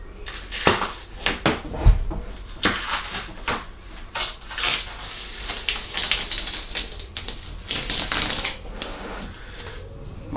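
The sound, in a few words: masking tape slowly peeled off ballasted model railway track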